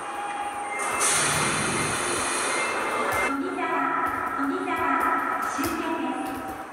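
A train idling at a Japanese station platform on a rapid service bound for Izumi-Chuo, with a low rumble and a rising and falling motor whine, while a voice speaks Japanese announcements over it.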